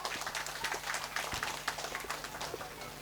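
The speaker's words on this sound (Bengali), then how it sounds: "হাততালি হয়ে যাক" An audience at a Teachers' Day programme at Nivedita Nursery and KG School claps in scattered, steady applause, fairly faint, with a low hum running underneath.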